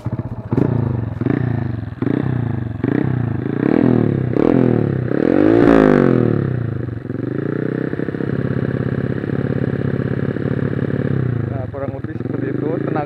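A Honda Karisma 130cc four-stroke trail-style motorcycle engine cranks and catches, revs up in a series of rising pulls with a peak blip, then settles into a steady, loud idle close by.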